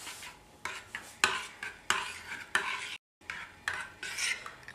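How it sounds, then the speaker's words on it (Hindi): Carrot and pomegranate seeds being stirred into a raita in a bowl, with a spoon scraping and clinking against the side in repeated strokes, close and clear, broken by one brief silent pause. "अब इसमें हम पोमग्रेनेट सीड्स डाल देते हैं और मिक्स करते हैं, और कैरेट भी डाल देते हैं, और इसको भी हम मिक्स कर लेते हैं।"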